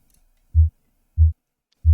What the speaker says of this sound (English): That sounds more like a heartbeat.